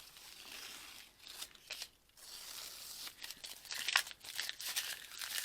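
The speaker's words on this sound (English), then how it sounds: "So let's take the edges off. I meant the tape. Take the tape off." Tape being peeled off the edges of a paper collage: quiet, intermittent tearing and crinkling, close by, with a brief sharper rip near the end.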